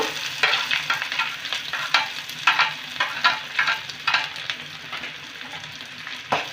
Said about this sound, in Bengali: রসুনটা নেড়ে নেব এবার দেব আমি কেটে রাখা পেঁয়াজটা দেব